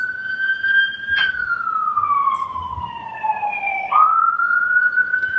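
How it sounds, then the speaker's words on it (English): An emergency vehicle siren wails outside during a courtroom trial, its pitch sweeping slowly down and then rising again, loud and continuous with no speech over it. "when these sirens are interrupting the trial"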